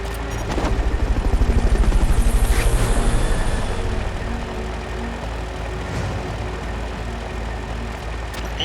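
A recovery helicopter's rotor thumps loudly, then settles into a steady engine drone with faint game effects and occasional clicks, in Metal Gear Solid Peace Walker HD.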